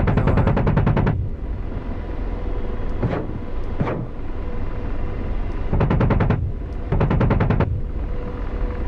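Machine-gun bursts from enemies hidden in the woods in the DCS World combat flight simulator, heard over the steady drone of an Apache helicopter on patrol in the Afghanistan mountains; long rapid rattling bursts alternate with a couple of sharp single cracks.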